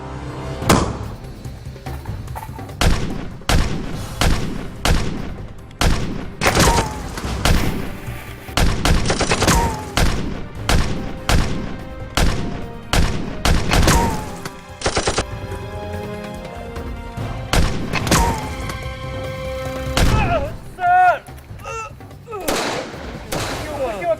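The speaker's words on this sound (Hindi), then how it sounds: "उन्होंने आगे से अच्छी खासी हैवी फायरिंग शुरू कर दी" Heavy gunfire rings out during an armed engagement, dense bursts of automatic fire and single loud shots rattling in close succession throughout, with brief voices shouting in between.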